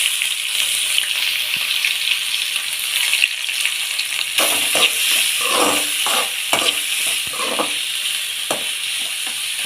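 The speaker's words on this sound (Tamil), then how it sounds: "இப்பயே வெங்காயம் நல்லா வதக்கிடும்." Finely chopped onions and slit green chillies sauté in hot oil for a meal maker masala curry, giving a continuous loud sizzle with bursts of stirring and scraping and no talking.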